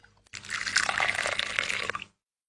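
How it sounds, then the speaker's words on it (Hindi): Hot water poured onto an instant tree gadget in a cartoon, a short, close splashing pour of under two seconds that stops abruptly. "पहले इस पर गर्म पानी डालना होगा।"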